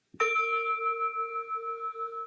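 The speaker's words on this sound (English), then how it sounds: "And when I hear that chime" A single meditation chime struck once, ringing out with a clear bright attack and a long, steady sustaining tone with shimmering overtones, heard alone at moderate level.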